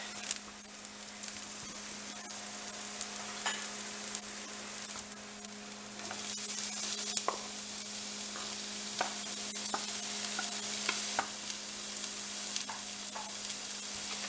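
Onions sauteing on low heat in a pan for stuffed bell pepper parmigiana, a soft steady sizzle with occasional light clicks and stirring taps.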